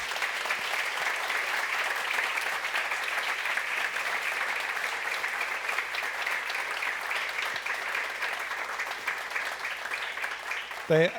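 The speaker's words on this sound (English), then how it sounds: "Give a huge round of applause." A large audience at the Neos Awards ceremony applauds steadily and evenly for about eleven seconds, dense continuous clapping that ends with a faint voice.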